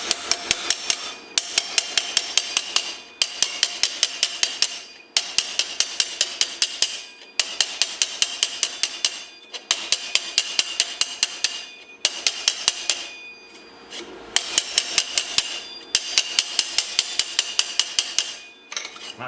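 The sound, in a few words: hammering out a TIG welded collar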